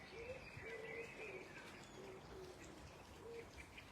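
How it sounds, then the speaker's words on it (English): Birds call outdoors over a steady rush of wind, with soft repeated cooing notes and higher chirps scattered throughout. "Besides the wind and the birds."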